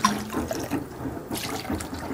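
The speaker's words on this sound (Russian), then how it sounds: "у нас есть розовое вино, мы этим вином поливаем" Rosé wine poured over a red fish's head and tail as it thaws in cold water, a continuous liquid splash and trickle at close range, steady with small surges and no talking.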